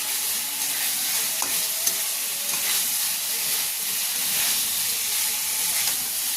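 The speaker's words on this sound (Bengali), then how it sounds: "অল্প একটু গরম মশলা ছড়িয়ে দিচ্ছি আবারও একবার নাড়াচাড়া করে মিশিয়ে নিচ্ছি" Chicken pakora mixture being stirred dry in a hot pan after a sprinkle of garam masala, with a steady bright hiss of frying and occasional soft scrapes of the spoon, close and continuous.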